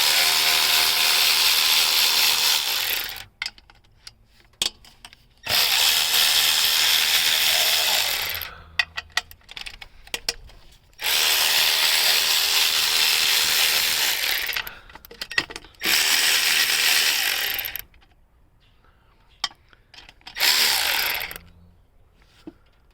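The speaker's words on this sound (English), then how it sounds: "using these power tools come in handy so much" An electric impact tool loosening bolts during a 2005 Acura TL engine swap whirs in loud bursts of a few seconds each, separated by short quiet gaps and small clicks, four or five runs in all.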